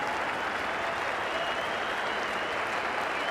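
A cricket crowd at an Australia versus India Test applauds steadily, a dense, even wash of clapping from many hands in a large stadium.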